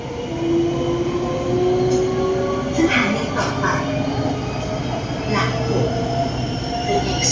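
SRT Red Line electric commuter train in Bangkok running at speed, a steady loud rumble of wheels and motors with faint squeals and clicks throughout, heard from inside the carriage.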